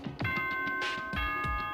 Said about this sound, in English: Ding dong, ding dong.